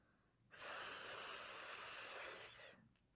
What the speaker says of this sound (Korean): 문 밖에서 소름 끼치는 숨소리가 들려왔다.